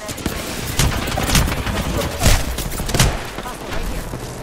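Rapid bursts of gunfire from an Apex Legends match crackle in close, repeated volleys with heavier shots standing out, while a voice speaks over the shooting.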